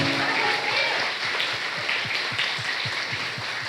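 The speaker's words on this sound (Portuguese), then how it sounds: "E pode aplaudir a Jesus bem forte" A church congregation claps in a steady rhythmic beat, a loud, close, even burst of applause filling the room.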